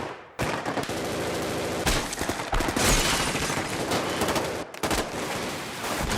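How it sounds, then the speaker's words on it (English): Dense, chaotic gunfire erupts in a film scene as gangsters are ambushed at a lodge, with sustained bursts of rapid shots and heavy volleys filling the entire stretch, loud and close, briefly dropping out before resuming. "Dillinger wakes up from the sound of gunfire."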